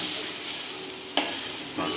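Ridge gourd and pumpkin pieces frying in a hot wok over a gas flame give a steady close sizzle, with a sharp scrape or stir just past the midpoint and another near the end.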